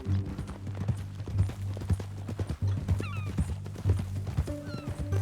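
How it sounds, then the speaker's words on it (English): Horse hooves clip-clop in Red Dead Redemption 2 as a mount walks in a steady rhythm, with a brief whinny and a low musical drone underneath. "That new horse?"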